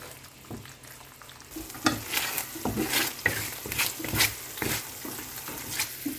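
Thick coconut cream bubbles and sizzles as it boils in a saucepan while a spoon stirs and scrapes through it in irregular strokes, close and moderately loud.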